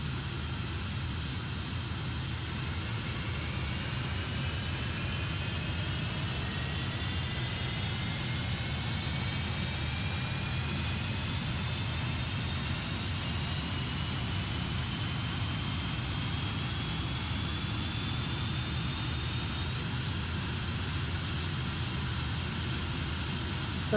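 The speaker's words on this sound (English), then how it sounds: "Our two engines have started." Twin jet engines of an F-5E Tiger II spool up in the DCS flight simulator, a continuous loud cockpit roar with rising turbine whines climbing steadily in pitch, no speech over it.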